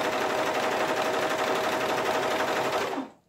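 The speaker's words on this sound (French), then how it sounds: "je refais ma chaînette sur quelques centimètres pour repasser le fil vert dans la chaînette" A Pfaff 1450OL Element overlock serger sews a chain stitch, a fast, steady mechanical whirr running loud and close for about three seconds before it stops abruptly.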